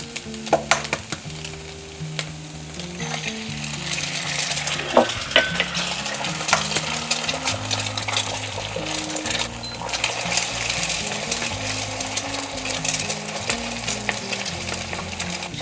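Eggs fry and get stirred in a pan with sausage for Cantonese fried rice, making a continuous close sizzle with frequent scraping and utensil clinks and no talking.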